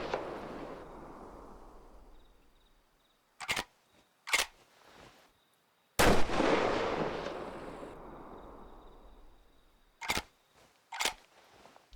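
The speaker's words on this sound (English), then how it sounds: "we're just going to fire off some rounds and listen to everything" Rifle shots in the Way of the Hunter hunting game with the Strasser Pack: two loud booming reports each followed by a long rolling echo, separated by sharp mechanical clacks of bolt cycling and magazine handling.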